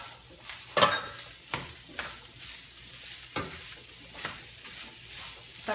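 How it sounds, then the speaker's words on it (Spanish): Browned beef and onion picadillo sizzles in a pan as diced potatoes are stirred in, with a steady frying hiss broken by several scraping strokes of a spoon against the pan, close and fairly quiet, with no talking. "le vamos a agregar nuestras papas. Vamos a empezar a revolver."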